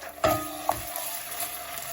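Two tablespoons of tomato paste frying in a pan over medium heat, a soft steady sizzle with a couple of brief stirring scrapes, close and quiet.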